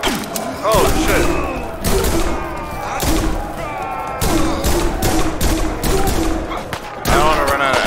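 Bursts of assault rifle fire during a prison riot in Prison Simulator, loud close volleys recurring roughly every second with thuds and clatter, while a voice talks between shots.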